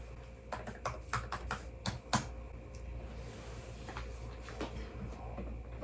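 Keys strike on a typewriter while an essay is typed, sharp, close clacks coming in quick irregular bursts, then thinning to sparser taps against a quiet background hum.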